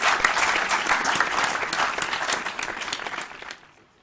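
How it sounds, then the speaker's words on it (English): Audience applause for school quiz teams at the end of a round in a primary/JHS quiz competition, a dense burst of clapping that carries steadily for over three seconds before quickly dying away. "A round of applause for both teams."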